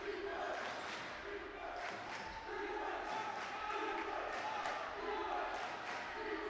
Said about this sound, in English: Crowd going wild here. They want some defense.